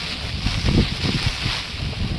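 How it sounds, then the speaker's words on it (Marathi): Strong wind gusts buffet the microphone outdoors, a loud, rumbling low roar with a steady hiss over it that pulses briefly stronger midway. "खूप वारा सुटलाय हो"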